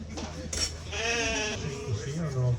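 Sheep bleat repeatedly at an agricultural show's blade shearing competition, the wavering cries close and fairly loud over a crowd and a commentator talking.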